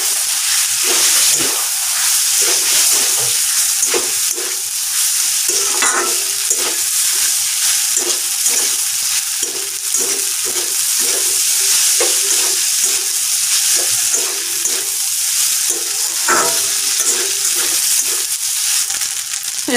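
Pasta in tomato sauce sizzling and frying in a pan, with a spoon or spatula stirring and scraping in a steady rhythm through a continuous close hiss.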